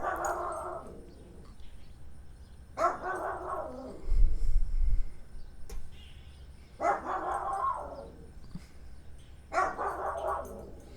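A dog barking outdoors on a cold morning, four separate bursts of barks spaced a few seconds apart, somewhat distant and fairly faint, with low rumbling background noise between them.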